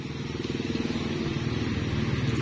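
Modified Yamaha Tiara motorcycle engine with a milled crankcase, Satria cylinder head and 125 jet, running close by at a steady idle with a fast, even, throbbing putter.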